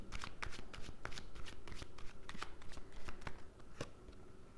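Tarot cards being handled and arranged, a close run of quick papery flicks and shuffles that eases off near the end, with no voices.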